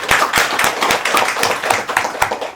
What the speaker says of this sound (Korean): 자, 박수 한번 쳐주시죠.